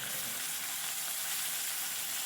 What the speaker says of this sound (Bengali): এবার আমি একই প্রসেসে বাকি মাছগুলোও ভেজে নিচ্ছি।